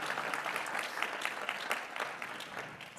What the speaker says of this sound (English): Let's give you guys both actually a round of applause.